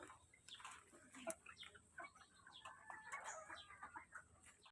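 A flock of about 55 laying hens clucks and murmurs at feeding time while being given layer feed mixed with chopped grass, a faint, busy chorus of overlapping calls with no talking.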